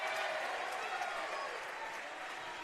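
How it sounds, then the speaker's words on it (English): Crowd at a mixed reserves hockey grand final between South Australia and Tasmania cheering and applauding, a dense continuous roar of clapping and voices that fades slightly toward the end. "Listen to that crowd."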